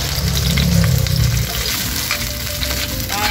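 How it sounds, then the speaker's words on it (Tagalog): Shrimp dropped into hot oil in a frying pan for a Filipino pinakbet vegetable sauté, giving a loud, dense sizzle that crackles close and continuous, with a deeper burst at first that settles into steady frying. "Mainit na guys yung ating mantika, kaya ilalagay natin itong ating mga hipon."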